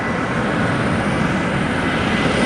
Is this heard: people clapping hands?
no